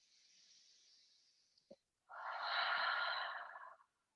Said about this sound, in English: Exhale all the air out through the mouth